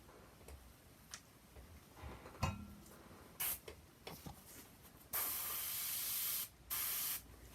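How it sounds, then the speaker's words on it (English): An airbrush sprays paint onto leather in short hissing bursts, then two longer steady sprays, close and clear with faint ticks and handling noises between, and no voices. "And the airbrush."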